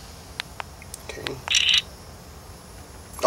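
Shutter click from a Geekpro action camera, a brief sharp electronic snap set apart by a few soft taps and clicks, close and fairly clear in a quiet room.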